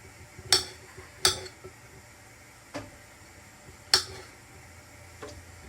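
Knife blade striking a cutting board while chopping whole chestnuts for a chicken and prawn stir-fry, about six sharp, quiet, unevenly spaced chops in a calm kitchen.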